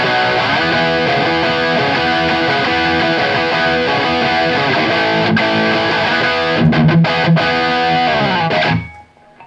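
A Victory Super Sheriff VS100 guitar amp driven by an overdrive pedal roars with a loud, saturated distorted guitar riff of sustained chords, ending with a few choppy stabs before cutting off.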